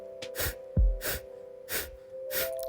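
Kapalabhati yoga breathing: four sharp, forceful nasal exhales in a steady rhythm, each a quick close puff with soft passive inhales between, in a quiet room.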